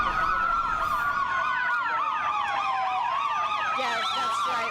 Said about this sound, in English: there was an ambulance that just went by